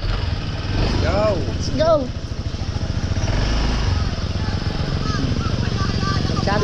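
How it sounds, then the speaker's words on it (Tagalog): A motorcycle carrying three riders runs with a steady, close engine drone throughout, while people shout and talk over it. "Tatlo tayo sa motor."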